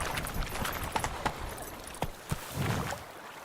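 Hooves of Roach, the horse in The Witcher 3, clop in a loose, uneven patter across soft ground, moderately close and fairly quiet among game ambience, with no speech.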